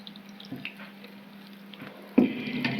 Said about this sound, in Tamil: இப்போ வந்து இந்த மசாலாவில் கொஞ்சமாக வந்து தண்ணி சேர்த்துக்கலாம்.